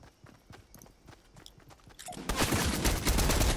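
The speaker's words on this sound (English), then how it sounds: "Okay, who's shooting who?" Rapid gunfire in the Fortnite video game breaks out after light scattered clicks, growing into a loud, dense burst of shots over the last second and a half.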